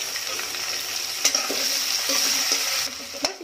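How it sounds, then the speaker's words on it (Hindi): Onions frying with garam masala in a kadai give a loud, continuous sizzle, punctuated by a few sharp scrapes and knocks of stirring, close up and without talk. "यहाँ पे ऑनियन दे देंगे, इसको लाइट पिंक होने तक भून लेंगे।"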